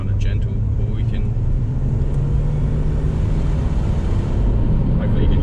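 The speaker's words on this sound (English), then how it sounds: "you do get a fair bit of induction noise" A Ford FG Falcon engine with a new intake produces a constant droning induction rumble under gentle acceleration, mixed with wind noise, as a voice talks over it.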